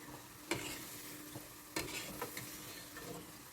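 Raw peanuts with a spicy coating cook in a pan, giving a steady low sizzle with a few sharp clatters and scrapes as they are stirred and tossed.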